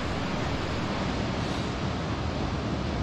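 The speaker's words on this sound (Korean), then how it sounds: "파도 소리가 아주 웅장하고" Ocean surf rolling onto the beach at Da Nang, Vietnam, near a seaside resort in the morning: a steady, full roar of breaking waves that fills the whole stretch without pause, with no voices.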